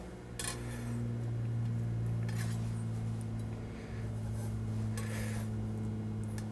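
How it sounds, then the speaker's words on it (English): Cutting a slice of Fat Head crust pizza in a hot pan, soft rasping scrapes and light metallic clinks of the cutter against the pan over a steady low hum. "So there is my pizza. I'm going to cut into this. Cut a slice for myself."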